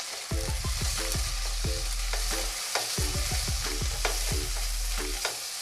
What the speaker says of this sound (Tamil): கலர் மாற அளவுக்கு நல்லா வதக்கிக்கலாங்க.